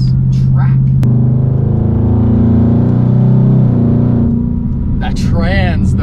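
A Jeep engine with catalytic converters revs loudly and holds a high, strained roar for several seconds, then drops back; people talk briefly before and after.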